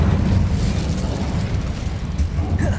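Incendio fire spell cast in Hogwarts Legacy, a dense roaring burst of flame and rumbling blast noise that holds steady and loud for a few seconds, without voices.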